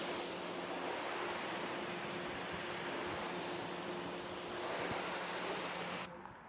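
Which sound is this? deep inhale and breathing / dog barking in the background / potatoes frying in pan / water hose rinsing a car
water hose rinsing a car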